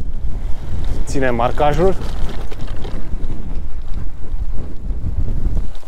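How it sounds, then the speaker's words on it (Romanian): Strong wind on a mountain top near Vârful Neamțului in the Baiului Mountains buffets loudly and continuously, a dense low roar with gusty fluctuations, while someone speaks briefly in the middle. "Bate vântul bine de tot aici."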